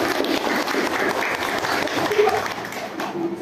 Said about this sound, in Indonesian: Beri tepuk tangan untuk Mbak Bila.